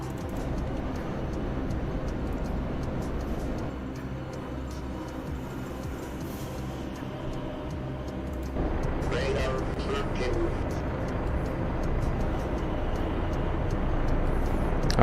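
A Kiowa helicopter engine in a modern military video game drones steadily with a low, even hum, stepping up slightly louder and brighter midway and holding there.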